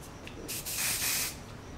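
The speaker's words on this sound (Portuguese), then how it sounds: "passar o spray" Hairspray hisses in one short burst onto a semi-updo hairstyle, close and steady for under a second, then stops, leaving quiet room tone.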